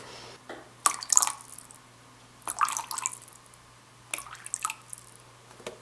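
Water is poured from a container into a small plastic yogurt cup in three short bursts of splashing trickle against a quiet indoor background.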